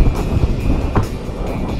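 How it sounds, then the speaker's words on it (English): Wind gusting across the open shore of Ahquabi Lake, a loud, steady roar of buffeting against the microphone with low rumble throughout and a few stronger surges. "Oh, it's windy."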